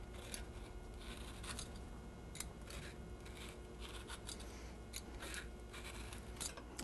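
Bosc pears being peeled and diced by hand, soft scraping and cutting strokes repeating in an uneven rhythm, quiet and close with no talk.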